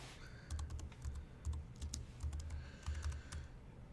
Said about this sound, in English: so I'll type it out.